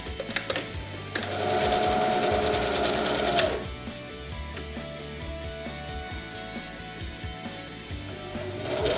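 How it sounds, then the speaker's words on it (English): A sewing machine stitches a lavender eye pillow, running in a loud steady burst for about two seconds before settling into quieter, uneven whirring with small clicks that fill the rest of the clip. "you can get your machine ready if you're going to sew with the machine"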